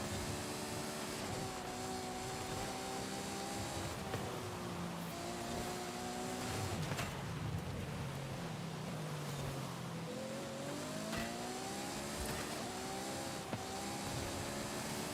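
Racing car on full slick tyres in the rain in a racing video game, its engine whining and rising through the gears, with steady road and spray noise throughout and no talk.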